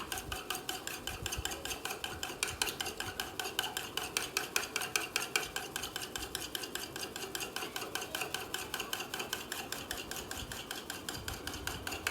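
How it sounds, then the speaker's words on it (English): Carrot cake batter of dry and wet ingredients stirred in a bowl, making a fast, even rhythm of repeated scraping strokes that continues steadily throughout, fairly quiet and with no talking. "I'm stirring everything together"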